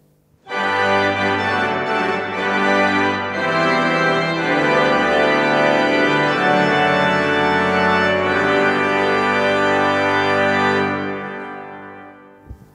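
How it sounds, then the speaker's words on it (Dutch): A full church pipe organ in Knokke-Heist sounds a sustained, loud chord with all its stops drawn, holding a rich dense tone for about ten seconds before releasing into the reverberant room. "Het volorgel klinkt zo."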